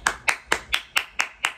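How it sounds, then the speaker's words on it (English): Seven sharp, evenly spaced hand claps in a quick steady rhythm, like one person or a small group clapping in unison, close and clear. "Can we get a round of applause, please?"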